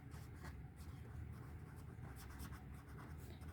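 Pen scratching on paper while a maths problem about the area of a rectangular park is worked out, faint and continuous, with soft steady strokes and no voices.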